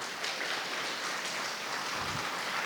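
Audience at a college orientation program applauding a guest lecturer: a steady, dense wash of clapping from many hands filling the room without break.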